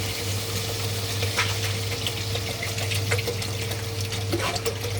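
Water runs and splashes steadily into a pan of sautéed fish curry, with a faint sizzle and a low steady hum underneath throughout.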